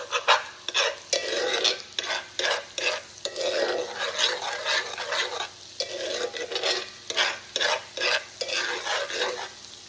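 Garlic browns in a hot pan with a busy, crackling sizzle, broken up by repeated scraping stirs of a utensil against the pan, close and steady throughout.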